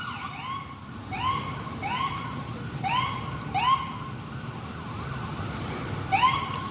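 Ambulance and emergency sirens respond to a car accident on the Jamaicaway, repeating rising wail-and-yelp sweeps at moderate distance over steady traffic background noise.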